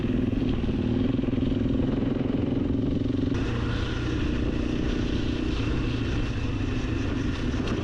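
A small Chinese motorcycle engine runs steadily while riding offroad in Mongolia, a close, continuous buzzing drone with wind and clatter, shifting in tone partway through.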